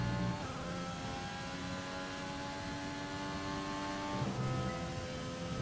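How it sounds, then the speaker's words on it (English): A worn racing car engine in an F1 2020 video game drones steadily with a buzzy, rough tone, its pitch dropping slightly as it slows, loud and continuous with no talking. "This engine is so worn out. Just listen to it on slowdown."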